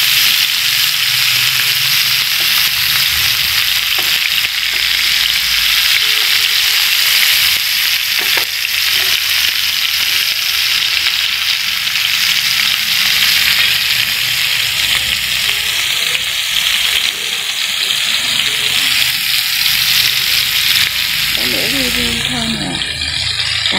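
Meat-stuffed tomatoes fry in a hot pan with a loud, continuous sizzle and bubbling oil that runs the whole time, with a brief stir or rattle near the end. A voice can be heard faintly under the frying.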